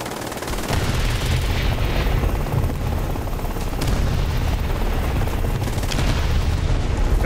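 57mm rockets fired from a helicopter in a combat video game, heard as continuous rumbling booms and rapid-fire bursts over engine and rotor drone, steady and loud for several seconds.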